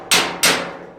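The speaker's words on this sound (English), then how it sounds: "I'm also hammering directly on the dolly." A hammer strikes weld metal backed by a dolly during hammer welding, two sharp, bright ringing blows about a third of a second apart, each decaying quickly, loud and close.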